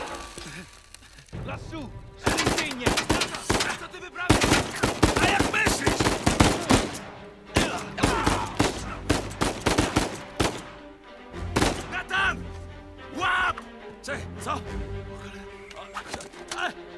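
Rapid bursts of gunshots in Uncharted 4 crack in clusters, with a voice talking over the firing and a few quieter pauses between volleys.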